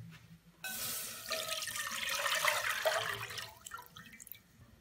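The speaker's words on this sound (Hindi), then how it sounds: "कढ़ाई में डालेंगे दूध" Milk pouring into a kadhai (wok) for fruit custard, a steady splashing liquid stream that starts abruptly, runs for about three seconds, then tapers off, heard alone without talk.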